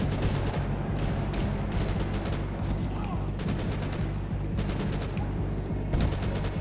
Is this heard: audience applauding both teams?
no